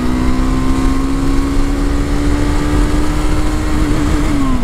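A Triumph 400 motorcycle engine pulls hard through the gears, a loud, steady close-up drone with the engine note climbing and shifting, no voices over it.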